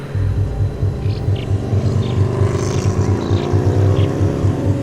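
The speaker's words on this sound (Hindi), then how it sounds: "तभी वही बाइक मुझे ओवरटेक करके आगे जाने लगी" A motorbike engine drones steadily up close, with a pulsing low rumble and a rising whine as it overtakes nearby.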